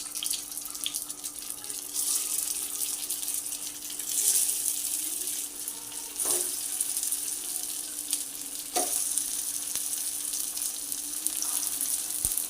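Leftover cooked rice balls frying in hot oil in a pan, giving a steady, close sizzle and crackle throughout with a few brief clinks, no voices.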